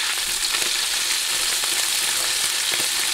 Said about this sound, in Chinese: 锅油底油先煸肥肉，